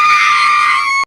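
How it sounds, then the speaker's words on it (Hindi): Children in a Hindi village cartoon let out a sustained, loud, shrill scream, alone and continuous for about a second before cutting off abruptly. "चीख उठे"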